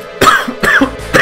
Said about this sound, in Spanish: Ay, joder, la puta tos.